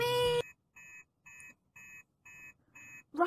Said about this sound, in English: that's the master alarm